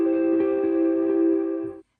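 A sustained electric guitar chord rings out with heavy delay and reverb, swelling and shimmering for under two seconds before cutting off abruptly.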